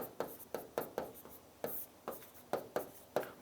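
Chalk or marker writing on a classroom board during a chemistry lesson: quick, close strokes and taps in an uneven rhythm, about a dozen short scratches, with no voice over them.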